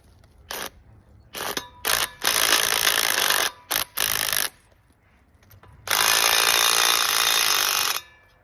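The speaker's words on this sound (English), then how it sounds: "when we tighten the bolt on it, what's going to happen, or the nut on it" A ratchet tightens a nut on a bolt during house construction, giving repeated close clicking bursts, some short and some a few seconds long, separated by pauses, with the longest run near the end.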